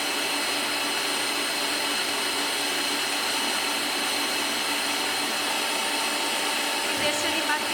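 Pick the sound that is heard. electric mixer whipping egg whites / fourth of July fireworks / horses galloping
electric mixer whipping egg whites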